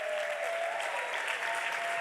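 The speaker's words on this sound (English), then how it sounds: "A big hand clap." Sustained audience applause at an evening church service welcoming a pastor from Worship Harvest, a steady dense wash of many hands clapping at even loudness throughout.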